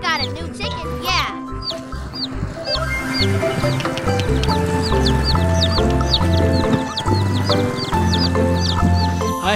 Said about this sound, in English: this I got a new chicken